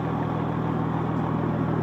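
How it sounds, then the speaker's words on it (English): A Deuce and a half military truck with a quieter turbo idles steadily close by, its exhaust giving a low, even drone with a constant rumble and no revving. "here is the beautiful sounding exhaust, the song of the Deuce and a half"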